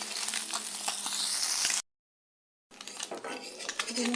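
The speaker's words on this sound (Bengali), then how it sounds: "পুঁটি মাছটা ভাজা হয়ে গেছে।" Small puti fish fry in hot oil in a pan as they are flipped, with metal spatula clatter and scraping over a light sizzle, broken by a short moment of silence before the cooking noise resumes.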